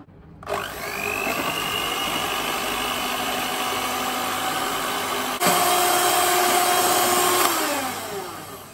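Electric hand beater whipping Boost-flavoured pudding cream mixture, a steady loud motor whine running alone throughout with a slight pitch shift midway.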